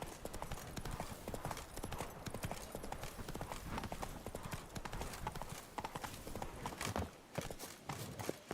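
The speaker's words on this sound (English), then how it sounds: "At least the horse works now." Horse hooves clip-clop steadily in The Witcher 3, a rapid, continuous run of close hoofbeats that carries through the whole stretch, with a brief dip near the end.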